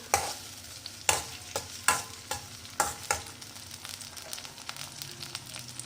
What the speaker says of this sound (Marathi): तो स्मूथ होईपर्यंत आपण त्याला परतून घेणार आहोत।